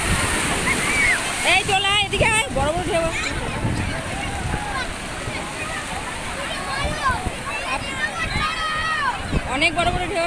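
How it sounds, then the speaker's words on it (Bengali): Big ocean waves roll in at the sea beach at Puri during a bathing outing, making a continuous loud wash and roar of surf, with several people talking and calling out over it. "অনেক বড় বড় ঢেউ আসছে।"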